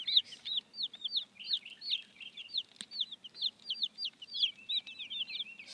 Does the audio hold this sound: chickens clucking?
yes